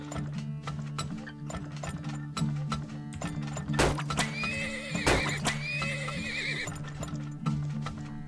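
Horses in the oil-drilling game Turmoil whinny sharply twice amid steady clip-clop hoofbeats and mechanical ratcheting game noises, with a looping tonal hum beneath and no speech.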